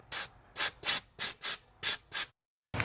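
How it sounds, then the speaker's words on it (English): Short bursts of compressed air from an air hose blow coolant out of a 2000-2006 Chevy Suburban engine, seven sharp hissing blasts in quick rhythm, then a pause before another burst begins. "I'm just gonna get an air hose and blow out all the coolant and stuff"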